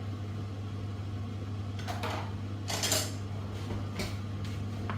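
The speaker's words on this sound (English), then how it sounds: "We add these meatballs to our sauce." Meatballs going into a curry sauce with a big spoon: a few scattered clinks and scrapes of the spoon against the pot over a steady low appliance hum, close and with no talking.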